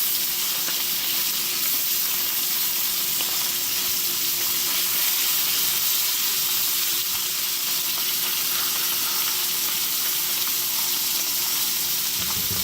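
Fresh mushrooms sizzle steadily in butter with steak seasoning, a continuous close hiss and crackle of frying with no voices.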